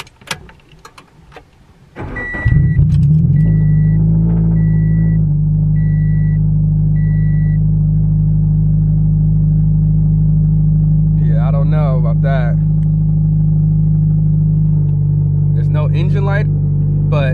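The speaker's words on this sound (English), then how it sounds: "Let me start the car up to show you guys." A Scion FR-S sports car cranks and fires up, settling into a loud, steady idle with a strong low drone; a repeating chime beeps early on, and brief talk breaks in over the running engine later.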